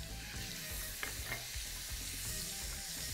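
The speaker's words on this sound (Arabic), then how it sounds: "وهبدا انزل بالثوم بالشكل ده كده، شويه ثوم حلوين كده" Garlic fries in a pan as a soft continuous sizzle, with faint stirring scrapes and no voices.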